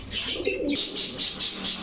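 Pigeons at a pigeon shop, including Girigela birds, coo in a quick series of five or six close, clear rhythmic calls, after a brief softer burst of bird noise, with no voices.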